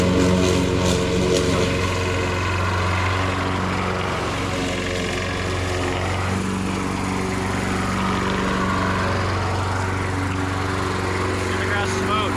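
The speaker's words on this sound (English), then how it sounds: "The choke was stuck. Stuck choke. The lawnmower choked." A lawn mower engine, after a stuck choke, runs steadily and loudly up close, its droning hum holding a constant pitch throughout.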